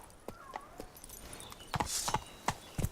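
Horse hooves clip-clop on the ground in The Witcher 3, a handful of distinct, fairly close hoof strikes spaced unevenly over a quiet background.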